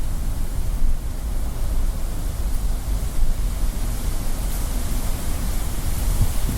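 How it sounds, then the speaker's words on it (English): A strong gust of wind roars at a church, a dense, steady buffeting rush that is loud and close throughout, with no talking. "It's a big gust of wind."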